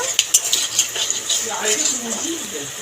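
A utensil scrapes and clinks against a pan while whole cumin, cloves, cardamom and cinnamon sizzle softly underneath, with a few sharp metallic taps near the start.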